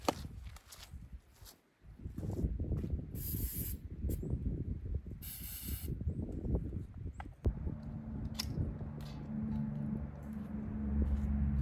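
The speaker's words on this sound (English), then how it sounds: "Try spraying this." Hissing bursts of spray while working on grapevines and peach trees, short intermittent sprays mixed with rustling and handling noise, then a low steady hum toward the end.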